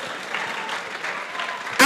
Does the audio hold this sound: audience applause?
yes